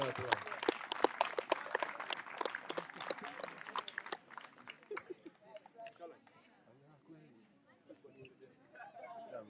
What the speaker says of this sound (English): I need a bigger applause for that one